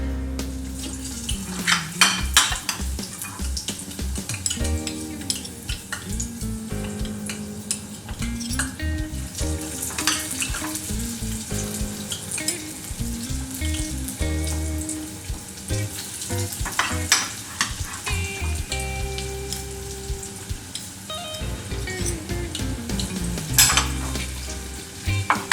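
Falafel deep-frying in hot oil gives a continuous bubbling sizzle, overlaid with frequent metal-on-pot clinks and scrapes from a utensil and background music throughout.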